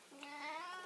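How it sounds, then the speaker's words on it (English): A cat gives a single short, clear meow close by in a quiet room. "Oh, that's my cat."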